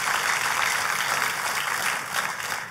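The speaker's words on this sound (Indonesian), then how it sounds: "Kalau mau tepuk tangan yang paling meriah saudara." A church congregation at an HKBP sermon breaks into sustained, lively applause, a dense wash of clapping that holds steady for a few seconds and eases slightly at the end.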